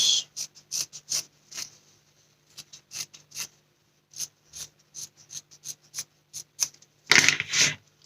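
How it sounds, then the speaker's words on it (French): Scissors snip through craft material at an angle while making a Christmas gnome decoration, a run of short, crisp close cuts in irregular bursts with brief pauses, ending in a louder cluster of rustling snips. "ici, je viens couper en biais."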